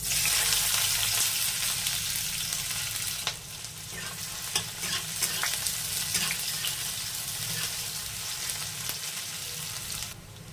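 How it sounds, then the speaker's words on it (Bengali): Whole cumin and chopped onion fry in hot oil in a pan, giving a loud, steady sizzle. Scraping stirs and clinks are scattered through it, and no one speaks. "এবার দিয়ে দেবো ফোড়নে, দিয়ে দেবো গোটা জিরে, দিয়ে দেবো পেঁয়াজ কুচি"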